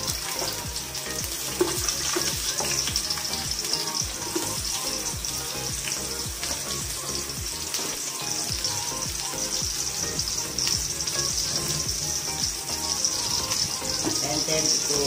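Chopped onion frying in a little oil in a pan, giving a steady, even sizzle throughout with faint stirring and clinks, fairly close and alone without talk.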